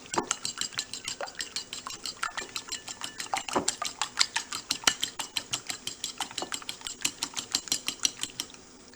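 Eggs and bread being mixed in a bowl, a fast, even run of sharp clinking strokes from a utensil against the dish, close and lively.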